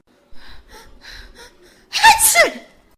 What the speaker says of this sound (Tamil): இந்த நேரத்துல தான் தும்மல் இருமல் எல்லாம் வரும்